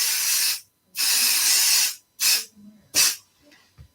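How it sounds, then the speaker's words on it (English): A spray bottle fires four quick hissing bursts, the second one longer, close by with short pauses between them. "I'm going to spray. I am pretty generous with my spray."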